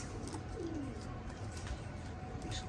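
Pigeons, including Oman teddy and batera breeding pairs kept for sale, coo softly in a short low murmur over a steady background of ambient noise.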